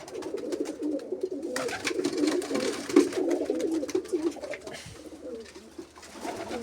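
Pigeons coo steadily and fairly close in a continuous, overlapping rumble of throaty calls, mixed with scattered sharp clicks and rustles, easing briefly near the end before resuming.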